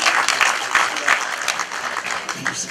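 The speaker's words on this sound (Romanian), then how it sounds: "V-aș fi recunoscător că l-a aplaudat." Audience applause at an outdoor festival in Romania, a dense steady patter of many hands clapping at close range, with no talk over it for the few seconds it lasts.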